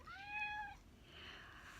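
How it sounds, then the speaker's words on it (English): A pet cat gives a single clear, drawn-out meow as it comes indoors, close and fairly loud, followed by quieter room noise. "my cat's coming in"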